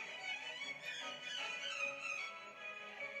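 Orchestral strings play a fugue subject in the cellos, the line passing among sections within a busy, layered texture that stays steady and moderately loud throughout, with no talking.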